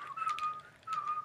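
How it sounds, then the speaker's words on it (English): A person whistles a short tune with clear, pure sustained notes, fairly quiet and close, over soft background noise and no talking. "Does this count as copyright if I whistle a tune?"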